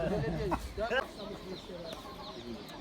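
Rooster calls and clucking from poultry at a chicken market in Taşköprü, Kastamonu, heard close amid market chatter, with voices talking over the birds.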